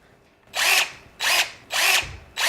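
A power drill tightens a clamp on a subwoofer port tube, sounding in four loud, close bursts of high whirring, each about half a second long, separated by brief pauses.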